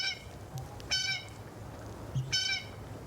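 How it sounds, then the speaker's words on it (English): A blue jay gives two loud, harsh calls, each a short burst of stacked notes, clear and fairly close against a quiet outdoor background. "A flashy, noisy bird, the blue jay is impossible to overlook."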